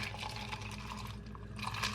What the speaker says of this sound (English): I'm pouring my coffee in